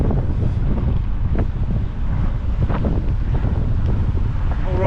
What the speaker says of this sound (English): I'm surprised my drone's coped with this strong wind.